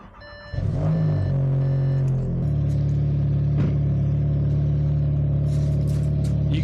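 An Audi TT engine starts and settles into a steady, loud idle, a low continuous hum with a faint electronic chime pattern at first and no speech over it.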